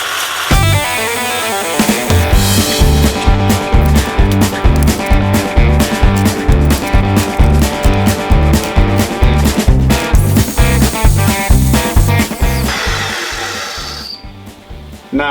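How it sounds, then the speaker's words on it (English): A cold saw fitted with a carbide metal-cutting blade bites through round steel stock, producing a loud, close, steady rhythmic chattering grind with rapid pulsing that runs for over ten seconds before winding down. "these cold saws are the way to go. These carbide metal cutting blades on there, you can see how easy it just cuts through this stuff"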